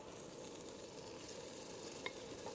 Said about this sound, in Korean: 지글지글 이렇게 하고 있죠?